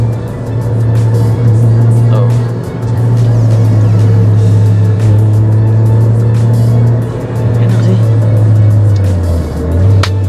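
A car engine fitted with an open air filter and racing coil revs in a steady, loud drone, its pitch holding level before sagging near the end, with brief dips between pulls.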